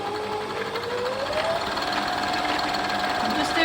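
A home sewing machine winding a bobbin produces a steady, close motor whir whose pitch climbs as it speeds up and then holds for several seconds.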